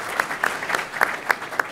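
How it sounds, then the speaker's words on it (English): A small audience gives a brief, fairly quiet round of applause at a city finance meeting, with a few distinct claps standing out from the spread of clapping. "round of applause."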